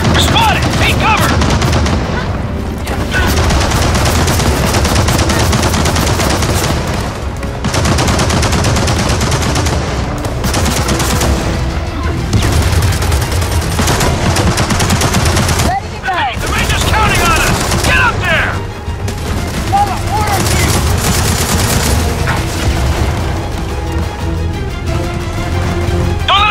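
Sustained machine gun fire and gunfire bursts in the Gears of War 4 video game, loud and near, rattling continuously across a chaotic firefight with brief pauses and shouted voices mixed in.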